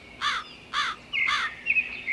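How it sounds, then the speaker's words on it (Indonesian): In a forest in a horror-themed video game, a bird gives three harsh crow-like caws at a steady rhythm, clear and fairly close, followed by a few thinner chirps, with no talking. "Kamu mendengar di wilayah ini ada suara seperti suara burung."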